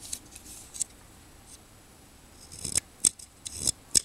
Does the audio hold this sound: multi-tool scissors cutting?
yes